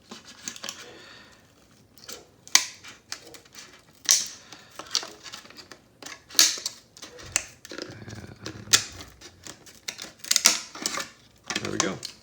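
Scissors snip and crunch through a clear polycarbonate body shell for a Team Associated B6.3 RC buggy, giving a series of short, close, irregular cutting clicks with the speaker talking between them.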